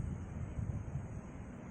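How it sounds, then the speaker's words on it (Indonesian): Wind blows across an outdoor microphone beside a rice field during eel fishing, a steady low rumbling buffet that stays constant and moderately quiet throughout with no voices. "Ada angin."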